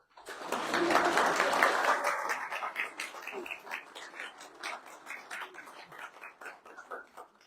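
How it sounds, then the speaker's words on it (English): Wedding guests clapping at a ceremony in the Waldorf Astoria, Edinburgh: a swell of applause that fades into scattered, uneven claps. "You can clap."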